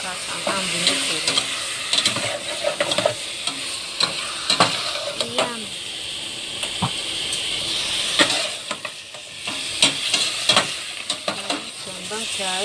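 An onion and spice mix fries in a pan, hissing steadily and loudly up close while a utensil stirs with repeated clinks and scrapes throughout.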